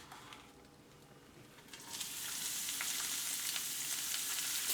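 Chopped leeks hit olive oil in a 10-inch non-stick skillet over medium-low heat, the sizzle swelling to a steady, loud frying hiss after they land, with light stirring clatter.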